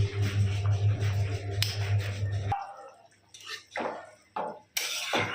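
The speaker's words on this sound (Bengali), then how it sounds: "এদিকে চিকেনের ঝোলটা ফুটছে" Chicken curry broth bubbling in a pot on a home kitchen stove, a steady low simmering hiss with soft drips and pops. It is followed by scattered clinks and splashy bursts of kitchen activity.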